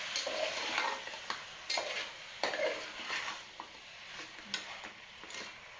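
Salt being stirred into Kolhapuri chicken in a pot: a spoon scrapes around the pot in repeated, fairly close strokes over a soft sizzle, with no talking.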